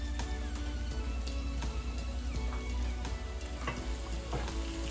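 Garlic and dried chili frying in hot mustard oil as a tempering poured over meat near the end of cooking, a steady, even sizzle with faint ticking crackles throughout and no voices.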